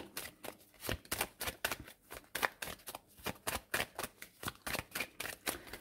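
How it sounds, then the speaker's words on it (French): Tarot cards are shuffled close up in a quick run of crisp riffling flicks and soft slaps, about twenty bursts in an uneven rhythm, with no voice over them. "on finit par prendre 3 petites cartes pour la santé."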